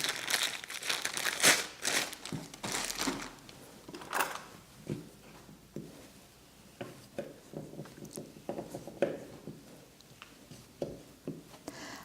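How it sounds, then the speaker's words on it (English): Hardened homemade Mexican paste is cut into small pieces, producing soft crinkling and crunchy snips in irregular bursts, louder at the start and then fainter, close by and quiet overall, with no speech. "After 12 hours, the paste will feel very hard. I'm going to cut that into small pieces."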